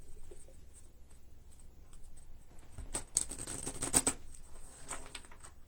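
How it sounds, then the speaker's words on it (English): A deck of cards being shuffled during a tarot reading livestream, with soft papery riffling and a brief louder burst of shuffling in the middle, fairly close and without talk. "sorry about all the shuffling, guys"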